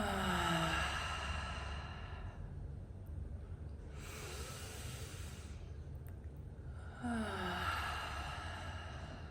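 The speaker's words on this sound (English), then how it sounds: "Let's take a breath together." A slow, deep breath taken and released close up, long hissing inhale and sighing exhale with quieter breathing between, calm and unhurried, no talking.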